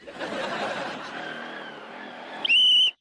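A motorbike rides past, its rough engine noise steady and moderately loud before fading, then a brief high, piercing tone cuts in at the end.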